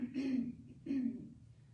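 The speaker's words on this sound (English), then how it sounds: "it can also be something like a throat clear" A person clears their throat twice in quick succession, close and fairly soft, with a brief pause between.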